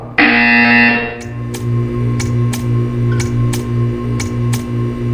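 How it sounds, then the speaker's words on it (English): A buzzer in the video game Portal 2: a loud, sustained electronic tone opens, then a steady droning hum continues with a series of sharp, evenly spaced clicks or ticks layered over it. "You will hear a buzzer."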